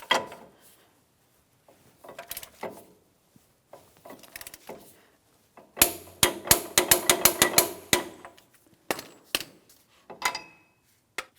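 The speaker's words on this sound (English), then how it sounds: "I'm going to torque this to 188 foot-pounds." A torque wrench tightens the front axle nut on a 2007-2014 GMC Sierra 2500 HD, with a rapid run of loud, sharp clicks near the middle and scattered metallic knocks and handling noises before and after.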